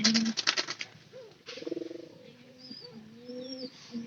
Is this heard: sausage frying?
no